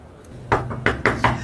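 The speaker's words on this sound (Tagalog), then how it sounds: "Basta, kumatok ka na lang." Four firm knocks on a door, spaced irregularly and close up, each a sharp hollow rap standing out against a quiet background.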